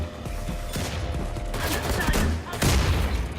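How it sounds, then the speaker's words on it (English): Gunfire and explosive blasts crack in quick succession from a sticky grenade launcher and other weapons in the shooter game Wolfenstein 2: The New Colossus, loud and dense, mixed with game noise. "So I get to use the sticky grenade launcher at least."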